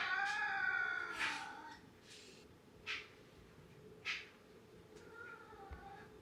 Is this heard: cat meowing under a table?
yes